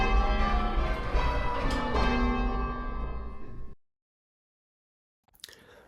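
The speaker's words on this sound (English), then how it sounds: "that brief overview of the bells at St John's in Lytham" Church bells ring out at St John's church in Lytham, a loud, dense peal of overlapping strokes that fades into silence, followed by a faint stir of sound near the end.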